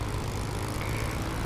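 A Spitfire's piston engine drones steadily on the ground in DCS, a close, loud and even propeller roar with no other sound.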